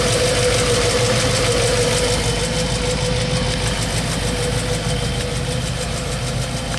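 A 1956 DeSoto Fireflite hemi V8 engine idles steadily and close by, a continuous low rumble with a faint rhythmic knock, no voices.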